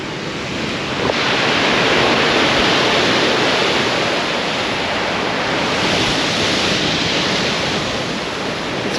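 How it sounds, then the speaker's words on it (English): Strong wind roars across a pier while rough sea waves rush and break below, a loud, continuous broadband wash with no let-up and no voices. "the wind is up. Rushing that sea today."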